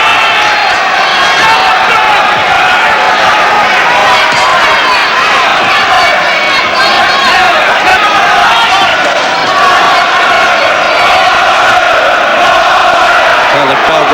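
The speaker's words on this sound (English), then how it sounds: "Well, the crowd rising to that" A boxing arena crowd rises and cheers at a right hand in the McCallum versus Watson fight, a loud, continuous wash of shouting and whooping voices that holds steady the whole time, with commentary running beneath it.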